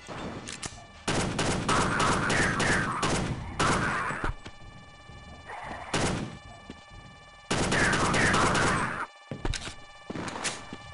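Rapid gunfire from weapons in Half-Life: Delta Particles, a first-person shooter game, fired in loud repeated bursts with short pauses between volleys and no speech.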